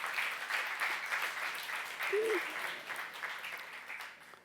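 Congregation applause at a church youth-group service: steady, dense clapping from many hands fills the whole stretch at an even level, with a brief vocal sound rising near the middle.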